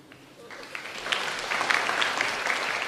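A church congregation breaks into applause during a sermon, clapping that starts faint and swells to a steady, moderately loud patter from a crowd.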